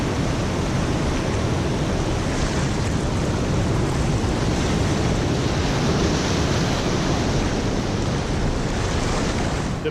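Pacific surf on the Oregon coast roars as a constant, loud wash of breaking waves, with wind buffeting the microphone throughout and no voices.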